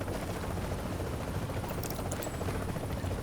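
Steady helicopter rotor drone from Tom Clancy's The Division, a loud continuous low thrum filling the whole stretch with a few faint high tones on top, no talk.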